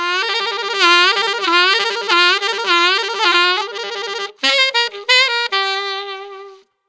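A solo saxophone holds an A with rapid wavering trills, then a quick pitch bend and a fluttering tremble, close and clear with no talking.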